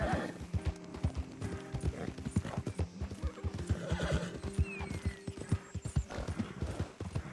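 Horse in Red Dead Redemption 2 whinnying and neighing over steady clip-clopping hooves, with faint mechanical clicks mixed in; the hoofbeats keep a regular rhythm throughout and sound fairly close.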